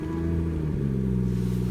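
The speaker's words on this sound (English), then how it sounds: "just apply the brake and press the start button here" A BMW 2 Series Performance Edition with an M exhaust starting up via keyless start, a steady close engine hum with a brief shift in pitch as it settles into idle.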